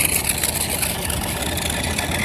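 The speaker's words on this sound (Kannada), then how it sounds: "ಬನ್ನಿ ಇವಾಗ ಒಂದು ಸರಿ ನಮ್ಮ ಮಹೇಂದ್ರ ನೋವಾ ಟ್ರ್ಯಾಕ್ಟರ್ನ ಓಡಿಸ್ಬಿಡ್ತೀನಿ" A remote-control Mahindra Novo toy tractor runs with a steady, continuous motor whir, close and fairly loud, with no talking over it.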